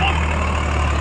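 Swaraj 744 XT tractor engine running steadily in second gear low range, a continuous loud low-pitched diesel drone throughout with no break in its even rumble.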